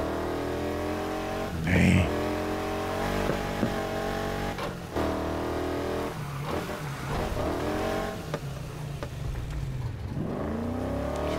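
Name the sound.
car engine revving while driving, Need for Speed Heat video game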